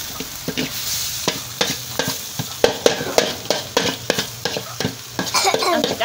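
Clams stir-fried in a pan: repeated scraping and clattering of a utensil against the pan in an uneven rhythm over a steady sizzle, close and fairly loud.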